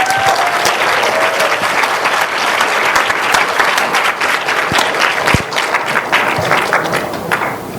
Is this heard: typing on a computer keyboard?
no